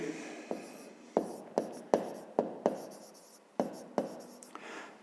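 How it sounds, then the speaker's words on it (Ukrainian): Pen strokes scratch across paper while a 5th-grade math exercise is worked out, coming as a steady series of short, close scraping bursts with brief gaps between them, with no talking. "Тоді так і записуємо."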